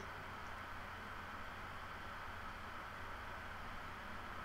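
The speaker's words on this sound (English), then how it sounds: "And there it does have white noise." Steady hiss of white noise from a GB-1 ghost box, faint and unbroken, with no voices or other sounds over it.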